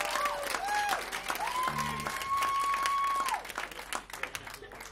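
Applause and cheering rise from an audience at a band's rock gig, sustained dense clapping with shrill whistles over it, fading toward the end.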